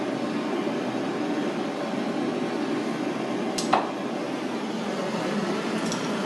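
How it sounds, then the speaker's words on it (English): A torch flame roars in a steady, even hiss as it heats the prop screws on an Aries being rebuilt. Near and constant, with a brief click partway through. "turn on the fire. Heat it up."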